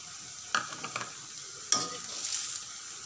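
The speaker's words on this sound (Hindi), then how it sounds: "अब इसमें चीनी मिला दें।" Sweet basmati rice being stirred with sugar in a pan over low heat: a few soft scraping strokes against a faint sizzle, quiet and close, with no voices.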